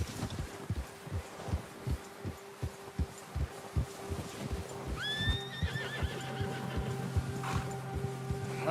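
Horse from the Red Dead Redemption 2 game, with steady clip-clop hoofbeats at a trot and one loud whinny partway through, heard alone without talk.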